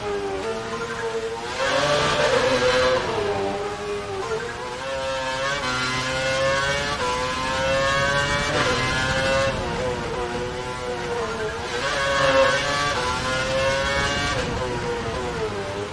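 Formula One race car in the F1 2012 video game lapping a wet track, its engine note rising and falling through gear changes and corners, loud and continuous with no talk.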